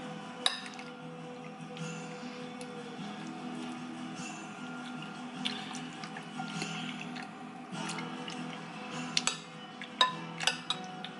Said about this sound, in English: So we added the sauce. I'm gonna mix it up.